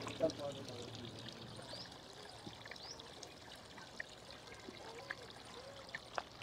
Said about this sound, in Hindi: पानी लेके जाएं, कूलर में डालें।